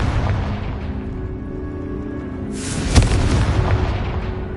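A Confringo fire spell blast cast in Hogwarts Legacy: a rumbling rush that flares into a bright, loud burst near the end, with a sharp crack at the peak and a sustained roar trailing it.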